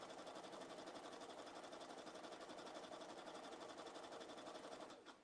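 A sewing machine stitches a line of zigzags in cotton thread, a fast, even mechanical whirring heard close and alone that stops abruptly near the end.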